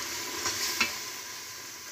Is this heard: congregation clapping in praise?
no